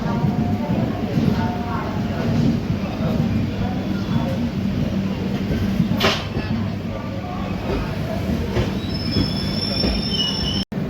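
The Indore–Daund superfast express departs Pune, wheels squealing and carriages rumbling steadily nearby, with faint voices and announcements in the background and a sharp click near the end.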